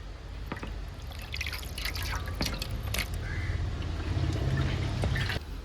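Water drips and trickles from freshly washed meat set to drain, with scattered close drips and a light steady trickle, fairly quiet and alone.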